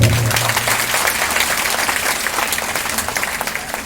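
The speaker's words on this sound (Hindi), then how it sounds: "सिंह सानी जी का दोबारा फिर धन्यवाद करते और एक बार उनके लिए एक बार ताली बजाते हैं।" A crowd at a Shrimad Bhagwat Katha religious gathering at an ashram claps loudly and steadily, a dense, sustained burst of applause that fades slightly toward the end.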